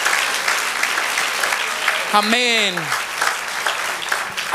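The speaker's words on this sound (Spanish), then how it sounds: "Y ahora sí, dele un aplauso al Señor." A church congregation claps steadily through the whole stretch while a voice speaks briefly over the applause.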